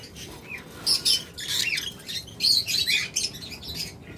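A sea green pair of caged pet birds chirps in quick, bright bursts of tweets, close and lively, with a faint low background hum and no talking.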